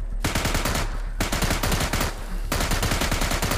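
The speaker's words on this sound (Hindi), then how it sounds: "अबे अंधाधुन गोली चला रहा हूँ मैं, पता नहीं कहाँ कहाँ" Machine gun fire in the zombie shooter game Into the Dead 2: rapid, continuous bursts of loud shots with brief pauses between them, dense and close, with no voices.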